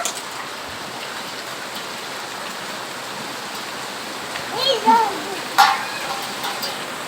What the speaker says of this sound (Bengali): কত জোরে বৃষ্টি পড়ছে